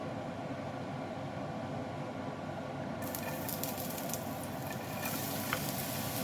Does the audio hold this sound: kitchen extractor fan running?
yes